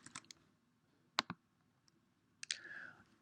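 Computer mouse clicks on a software screen: a few sharp, close clicks spaced apart, quiet and isolated, with no talking.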